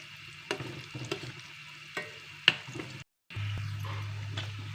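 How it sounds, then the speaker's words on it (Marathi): Sweet ripe banana fritters deep-frying in oil, with a steady soft sizzle and a few sharper crackles, briefly cut off before the bubbling resumes. "हे पहा, या पद्धतीने सगळं तळून घ्यायचं असंच."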